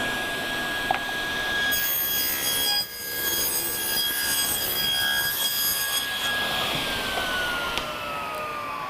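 A table saw cuts through wood in one sustained, loud pass, with a steady high blade whine and a brief dip in load partway through before the cut continues to the end.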